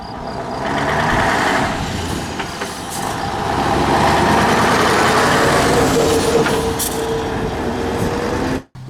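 A Fiat 619 N1 truck engine runs loud and steady, a continuous rumbling drone with a rising and falling mechanical whine, heard alone and close throughout before cutting off abruptly at the end.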